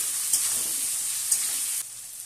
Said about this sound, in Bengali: মটরশুঁটি দিয়ে আরেকবার আমি ভালোভাবে নেড়ে নিচ্ছি